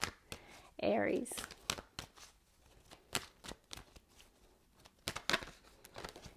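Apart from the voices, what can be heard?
shuffling tarot cards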